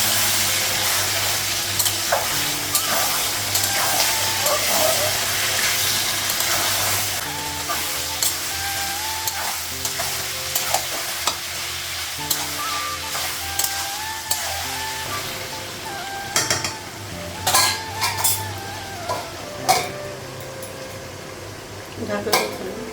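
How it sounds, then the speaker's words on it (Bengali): Spices hitting hot oil with fried onions sizzle while a spoon scrapes and clatters against the pot, louder stirring clinks toward the end over a low steady hiss. "তো পেঁয়াজটা ভাজা হয়ে গেছে, এখন মশলাগুলো লাগাবো।"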